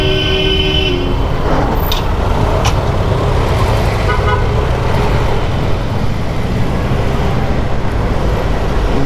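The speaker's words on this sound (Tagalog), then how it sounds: "Kahit anong busina nyo dyan." Car horns toot in dense road traffic, with a few sharp honks early on over a loud, continuous rumble of nearby engines and roadway noise, and no talk.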